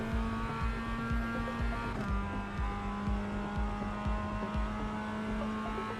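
A Mazda MX-5 driven in the racing game Assetto Corsa EVO, its engine holding a steady drone with a rhythmic low pulsing and faint tire noise, moderately quiet and continuous.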